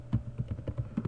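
Fast typing on a computer keyboard, a close, steady run of soft key taps for about a second with no voices.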